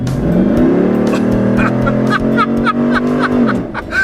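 A 2013 Jeep Wrangler SRT's 6.4L HEMI engine roars up at full throttle, its deep tone climbing steadily for a few seconds before easing off, with some brief vocal sounds over it.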